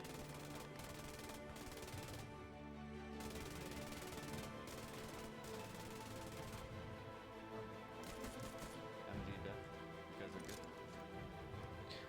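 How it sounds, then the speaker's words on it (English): Bursts of machine gun fire from an MG in the World War II shooter Post Scriptum, rattling in rapid rhythmic volleys against a busy battlefield backdrop, with a voice talking over the gunfire. "now I heard the MG up in these windows"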